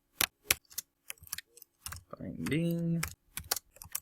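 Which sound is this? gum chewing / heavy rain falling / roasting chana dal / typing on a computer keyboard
typing on a computer keyboard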